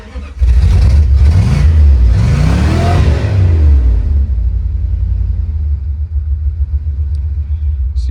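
A 1998 Jeep Wrangler TJ engine revs up loudly close by with a rising and falling growl, then drops back and settles into a steady, rumbling idle.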